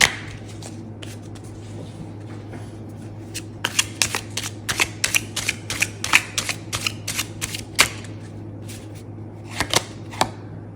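Tarot cards being shuffled repeatedly, a burst of crisp riffling clicks and flutters in quick clusters, close and clear over a low steady hum.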